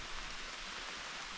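Steady rain pours down during a bikepacking trip through Slovenia, a dense, even hiss that fills the whole stretch without pause, close and moderately loud with no voices.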